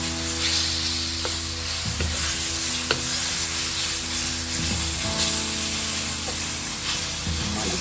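Mango peel dish sizzling and frying steadily in a hot pan, with a continuous hiss broken by a few sharp stirring clatters.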